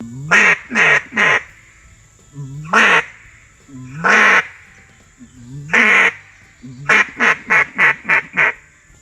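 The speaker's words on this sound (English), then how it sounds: "Learn how to quack. Learn how to string those 3 together." Loud, nearby duck call quacking in short groups: a quick triple, separate single quacks, then a rapid run of five quacks.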